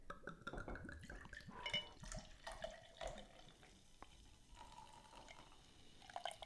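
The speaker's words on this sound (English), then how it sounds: "let's pour." Mail-order butterbeer is poured into a glass, a quiet liquid gurgle and trickle with small drips and splashes, faint and close.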